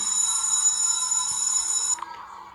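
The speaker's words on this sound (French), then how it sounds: "La sonnerie de la cloche de l'école m'a ramenée à la réalité." A steady, shrill electric school bell rings loudly and continuously for about two seconds, then cuts off abruptly, leaving a quiet room.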